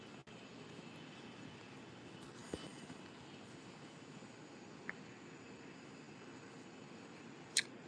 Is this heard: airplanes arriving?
yes